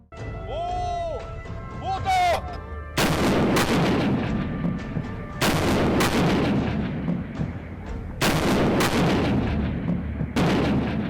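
A 130 mm artillery gun fires repeatedly during a military training drill, several very loud booming blasts with long rumbling tails spaced a few seconds apart, with a voice heard briefly before the firing.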